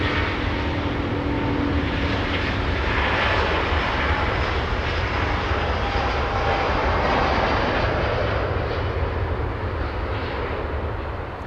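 A Scandinavian airliner departs Los Angeles International Airport at night, a broad, steady jet roar holding loud and even throughout with no voices.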